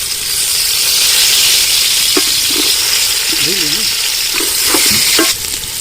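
Green chillies, cardamom, cinnamon and bay leaves frying in hot oil for mutton biryani, a loud close continuous sizzle with a few stirring knocks, easing slightly near the end.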